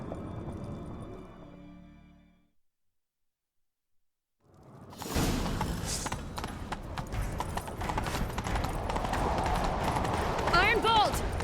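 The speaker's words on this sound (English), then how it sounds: "Grab a horse, we'll chase him down." Horse hooves clip-clop at a gallop in The Witcher 3, loud and close, starting after a brief silence and running steadily under game music and effects, with a short whinny near the end.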